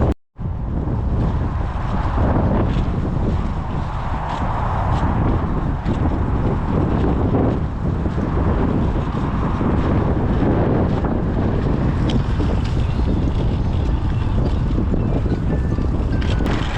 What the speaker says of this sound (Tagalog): Hindi, mahangin lang